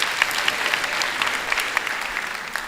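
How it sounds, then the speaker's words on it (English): An audience at a university autumn graduation ceremony applauds a graduate, Mr. Mamabulo, with steady, even clapping from a sizable crowd, loud and sustained for the whole stretch. "Can we also give him a big round of applause?"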